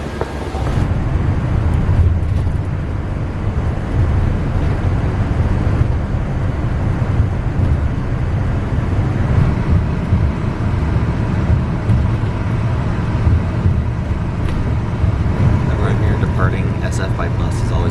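Steady, loud engine rumble and road noise from inside a Westcat Lynx commuter bus heading toward San Francisco, continuous throughout with no break.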